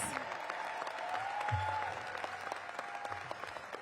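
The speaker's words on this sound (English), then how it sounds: "Give them another big round of applause" Audience applause for the Excel Academy girls at a mayoral announcement event, a steady wash of clapping at moderate level, with a brief voice and low murmur partway through.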